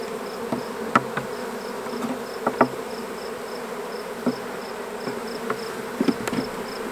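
Honeybees drone steadily around an open hive during a frame inspection, a close, continuous buzz with occasional louder individual bees passing near and faint knocks of equipment.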